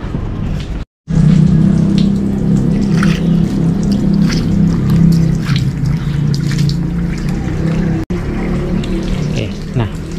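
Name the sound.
water rinsing while cleaning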